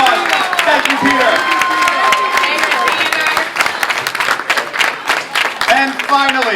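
Applause at a gala charity auction rises around a voice that keeps talking through it, with scattered claps and crowd murmur over the speech.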